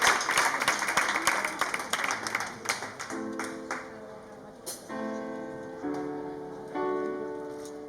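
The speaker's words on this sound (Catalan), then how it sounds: "L'aplaudim abans de començar per treure nervis" Audience applause in a church-style live singing event in Sant Feliu, Sabadell, dense and loud at first, then thinning out and fading as a sustained organ or keyboard chord enters and holds beneath the last scattered claps.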